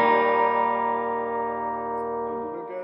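A single electric guitar chord through a Source Audio True Spring reverb pedal on a short setting rings out and slowly decays, with a short spring reverb tail washing behind it.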